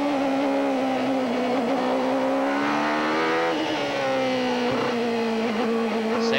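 IndyCar engine at the 1993 Portland Grand Prix, a loud onboard howl rising and falling with throttle through a corner, pitch climbing then dropping, with brief lifts and blips under steady high revs.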